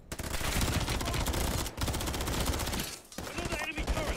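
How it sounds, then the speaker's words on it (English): Sustained automatic turret gunfire in a Modern Warfare 3 campaign battle, loud rapid bursts running almost continuously with brief pauses near the middle and end, dense and close. "Another enemy turret"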